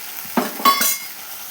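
Giant river prawn malai curry with coconut milk cooking in a pan gives a couple of short stirring and sizzling bursts, fairly close, with no talking.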